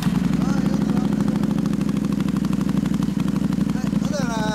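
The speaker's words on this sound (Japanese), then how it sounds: "マグナエンジンかけてもらえますか" Yamaha V-Twin Magna motorcycle engine idling nearby, a loud, steady, even pulsing throb that holds throughout, with a voice briefly audible near the end.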